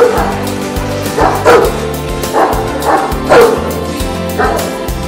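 Kangal dogs at a shelter bark in a loud, irregular series of close woofs, some with yelping or whimpering edges, over a busy background.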